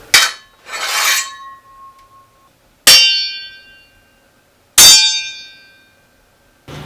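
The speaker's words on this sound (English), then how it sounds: "I recorded some sounds of the swords clashing together" Three sharp metallic clangs of swords striking, each ringing out and decaying, with a softer scrape between the first two; no talking.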